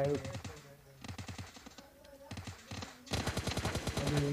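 Rapid video-game gunfire in bursts during a squad match on a snow map, heard as repeated fast automatic volleys with short pauses and a heavier, louder burst at the end, while players talk over it.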